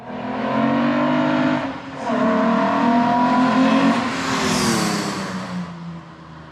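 A Cosworth V6 engine in a Ford Cortina estate sleeper, run on an Emerald standalone ECU, revs hard and loud up close. The note climbs, dips briefly, then climbs again before easing off.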